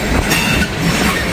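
Freight train with loaded ethanol cars rolling through a railroad work zone in high wind, a loud steady rumble and rush of wheels and wind with no break, heard from close by.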